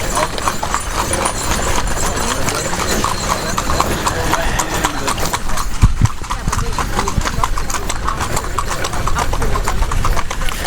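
Horse-drawn cart hooves clip-clop steadily and loudly on the road near Luxor, Egypt, with a running engine rumbling underneath and voices talking in the background.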